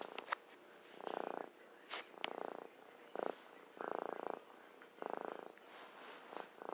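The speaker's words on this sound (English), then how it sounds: "Are you purring?" A cat purrs close by in rhythmic bursts, each pulse swelling and fading with its breathing, interspersed with short soft rustles and clicks.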